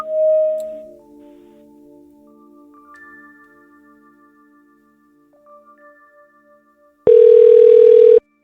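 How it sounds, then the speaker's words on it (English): A phone call placed to an AI voice assistant: soft steady dialing tones hold for several seconds, then a loud continuous ringback tone sounds near the end. "let's make one quick call just to hear the welcome message itself."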